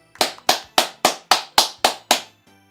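Characters in the fighting game Persona 4 Arena Ultimax clapping, eight crisp, evenly spaced hand claps in a steady rhythm, close and clear with nothing else around them.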